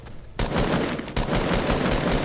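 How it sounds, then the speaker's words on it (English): Rapid automatic gunfire in Fortnite as players shoot down a supply drop: dense, loud bursts of repeated shots starting after a brief quiet, with a slight pause before continuing, no talk. "they're shooting the supply drop down"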